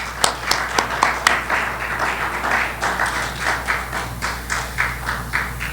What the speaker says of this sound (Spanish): ¿Cuántos le dan un aplauso al gran Dios sabio y eterno que tenemos por esto?